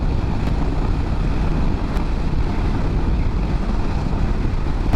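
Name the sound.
strong wind blowing during a motorcycle ride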